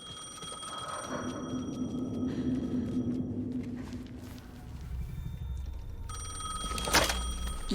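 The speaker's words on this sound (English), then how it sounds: "The phone again." A telephone rings repeatedly in the video game Alan Wake 2, its bell tones sounding in bursts over a low, dark ambient bed, with a sharper accent near the end.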